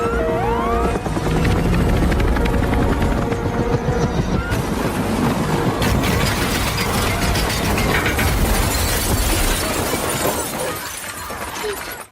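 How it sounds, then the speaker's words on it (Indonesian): A helicopter with a damaged engine makes a forced landing in a disaster film, its rotor thudding loudly and continuously under grinding, rattling mechanical clatter and crashing debris, with no voices. "harus mendaratkan helikopter secara paksa karena mesin helikopter rusak"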